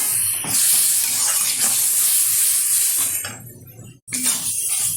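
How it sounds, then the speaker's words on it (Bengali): Masala paste of ginger, garlic, tomato and a little water sizzles and bubbles in a pan as it is stirred and cooked down, a loud continuous hiss with a brief pause near the end. "ভালোভাবে কষিয়ে নেব মশলাটা"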